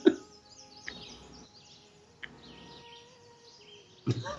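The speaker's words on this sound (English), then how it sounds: "let me turn the birds off because they all flew away" Quiet birdsong ambience plays during a tabletop game, with soft chirps and tweets over a faint background and a few louder knocks or bumps at the start and end.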